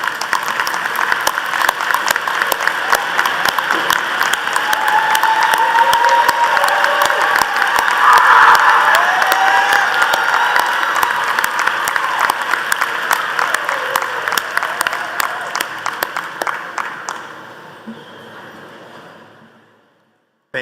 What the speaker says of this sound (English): will you please stand so we can thank you and so our graduates can also give you a round of applause